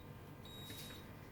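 Pampered Chef Deluxe Cooking Blender giving a single short electronic beep at a button press while making sweet potato soup, faint and steady against a low kitchen hum.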